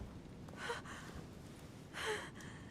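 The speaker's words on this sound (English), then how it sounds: "Her breathing is becoming stable" A woman's faint breathing in a video game, two soft gasping inhales about a second apart, quiet and close against a low hum.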